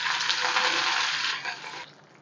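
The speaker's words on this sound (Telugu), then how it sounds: "ఇప్పుడు తాలింపు అంతా వేగిన తర్వాత కరివేపాకు వేసుకోవాలి" Loud, steady sizzling of curry leaves dropped into hot oil for tempering, a dense crackling hiss that fades slightly toward the end.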